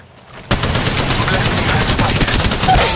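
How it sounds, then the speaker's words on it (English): Rapid automatic gunfire in Apex Legends Mobile kicks in abruptly and keeps hammering in a fast, steady rhythm, loud and close, with a voice briefly audible underneath. "Eight shots fired at me."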